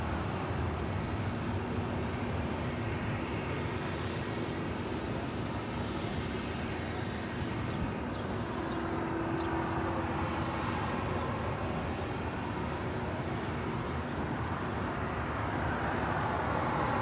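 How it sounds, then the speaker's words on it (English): A Korean Air Airbus A380 taxiing to the gates at Los Angeles International Airport gives a steady, broad jet rumble and whine that holds evenly throughout, moderately distant, with no talk over it. "the Korean Air A380 now taxiing to the gates"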